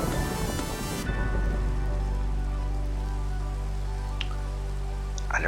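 Steady rain falls in the Minecraft video game, a continuous close hiss of drops with a low rumble underneath, starting after an opening passage of music and holding evenly, with a couple of faint brief clicks near the end.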